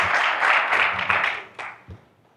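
Audience applause at an urban mobility and sustainability seminar, a short, close burst of dense clapping that thins out into a few scattered final claps and then stops.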